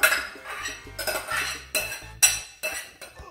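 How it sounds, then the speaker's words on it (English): A spoon stirs chicken a la king sauce with peas in a 1970s dish, producing a handful of soft scrapes and clinks against the dish in quick, irregular succession, close and fairly quiet. "you're gonna stir that around just like this and get it heated through"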